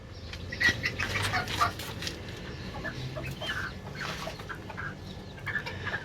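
Chickens in a coop being fed rice pilaf by spoon, with rooster calls and clucking, flapping wings and bird chatter going on steadily throughout, fairly close and moderately loud.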